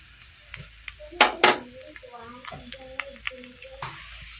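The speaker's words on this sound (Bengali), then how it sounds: "বাকিগুলো ঠিক একইভাবে ভেজে নেব।" Appe, Bengali dumplings made with dalia, frying in a pan: a steady soft sizzle under scattered spoon scrapes and a few sharp knocks, while someone talks over it.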